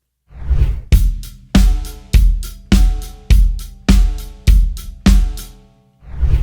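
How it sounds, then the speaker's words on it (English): Beginner-friendly rock beat played on an acoustic drum kit, with strong, evenly spaced kick and snare hits under steady hi-hat, repeating loud and close for several bars with no talking. "So that's our beginner-friendly rock beat."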